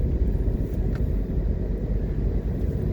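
Cars drive along the Portmore Expressway in Jamaica, a dense low rumble of road traffic heard continuously and fairly close, with a brief higher whine partway through.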